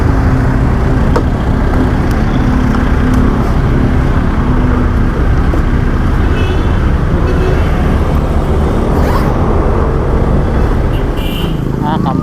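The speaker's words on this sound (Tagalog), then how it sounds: "Grabe sir, sobrang traffic." Dense, heavy road traffic in Davao City, a continuous loud roar of car and motorcycle engines close by, steady throughout with no pauses and no voices.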